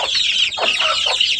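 Native desi hens on a rooftop garden cluck in quick, close, fairly loud bursts, several overlapping calls packed into a second and a half with no talking.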